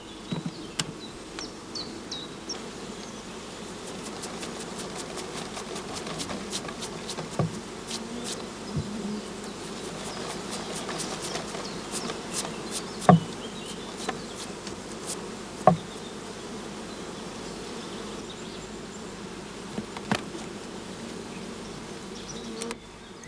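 Honeybees from a colony in a beekeeping yard hum in a continuous, even buzz, with individual bees zipping close past at intervals and no talking.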